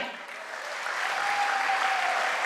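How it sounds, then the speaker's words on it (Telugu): An audience claps loudly together in a hall, a dense, steady wash of applause that swells slightly and holds strong to the end. "ఒక్కసారి మీకు మీరు గట్టిగా క్లాప్ చేయండి"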